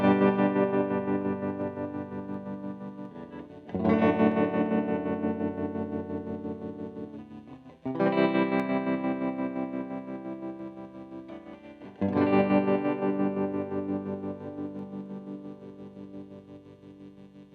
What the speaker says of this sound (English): this is just your standard tremolo effect